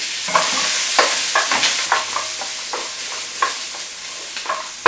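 Onions and garlic fry in an oiled pan for a Chinese beef curry, with a soft, continuous sizzle under repeated scraping strokes of a utensil stirring at a brisk, uneven rhythm, close and clear without talk.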